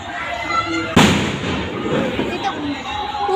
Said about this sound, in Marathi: बघू शकता तिकडे वाजतात बॉम्ब